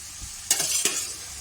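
Vegetables tipped into hot tempering oil for onion-free sattvic avalakki (beaten rice) give two quick bursts of sizzling and stirring, close and fairly loud, settling into a steady fry.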